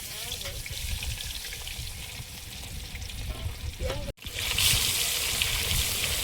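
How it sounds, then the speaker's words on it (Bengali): Pond fish slipped into hot oil in a home kitchen, giving a steady crackling sizzle that breaks off for an instant and then returns louder and fuller. "একটা দিয়ে দেখি তেল গরম হয়েছে কি"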